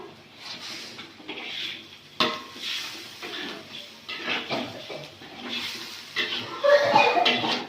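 Ayam napinadar, a Samosir-style chicken dish with a splash of added water, is stirred in a pan, giving soft scraping and clinking of a utensil against metal over a low sizzle, fairly close and steady with brief louder knocks.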